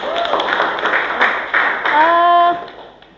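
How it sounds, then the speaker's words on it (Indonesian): Students in a classroom clap for a few seconds, a brief ripple of applause under a teacher's voice that carries through and ends in a sustained spoken tone. "Tepuk tangan untuk kalian, pinter semua."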